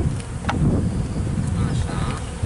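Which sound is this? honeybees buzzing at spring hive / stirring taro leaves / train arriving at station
honeybees buzzing at spring hive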